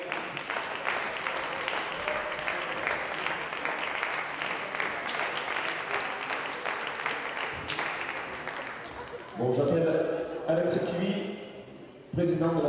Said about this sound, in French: On pouvait applaudir les arbitres